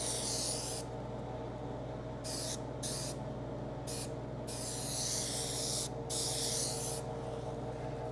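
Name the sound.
spray adhesive coat on convertible top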